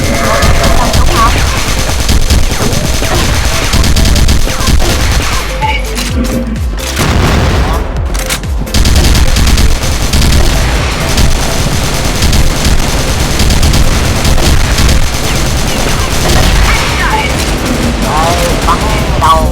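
Dense, loud gunfire and booming blasts from the CrossFire first-person shooter in a zombie mode, continuous throughout with brief lulls, layered under game effects and some talking.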